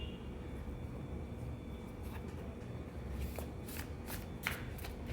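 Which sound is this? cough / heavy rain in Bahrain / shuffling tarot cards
shuffling tarot cards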